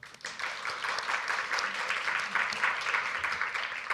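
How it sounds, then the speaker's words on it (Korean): An audience at a Korea University Changemakers Forum applauds student teams, a continuous wash of clapping from a large room, moderately quiet and even after a brief onset. "그 노력에 다시 한번 격려의 박수를 보내주시기 바랍니다."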